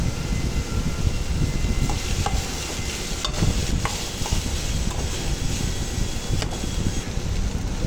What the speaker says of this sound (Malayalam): അത് ചെറുതായിട്ട് അരിഞ്ഞ് സവാള ചേർത്ത് കുറച്ച് ഉപ്പും കൂടെ ഇട്ട് നന്നായിട്ട് വഴറ്റിയെടുക്കുക.